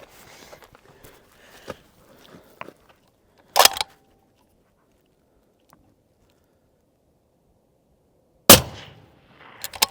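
An Accuracy International AT-X rifle fires two sharp, loud reports several seconds apart, each breaking a near-silent stretch, with faint bolt and handling clicks around them.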